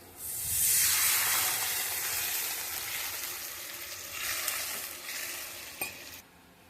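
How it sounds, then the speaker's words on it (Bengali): Water poured into a hot pan of curry with taro and hilsa, bursting into a loud sudden sizzle that peaks early and slowly settles into a softer steady hiss, close with no talking. "সামান্য জল দিয়ে দেবো।"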